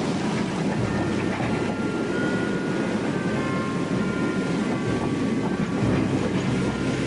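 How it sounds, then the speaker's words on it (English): A goods train rumbles past steadily, with a continuous heavy roll and faint squealing tones from the wagons, sustained throughout without pause. "As soon as the goods train passed"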